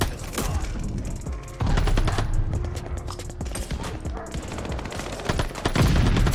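Rapid MP40 submachine gun bursts in Call of Duty Vanguard, dense clattering automatic fire running nearly throughout, loud and close, with game effects layered over it.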